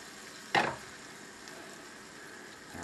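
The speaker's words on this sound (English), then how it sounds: "Our garlic's already starting to brown." Garlic browning in a pan, a faint steady sizzle broken by one sharp clatter near the start.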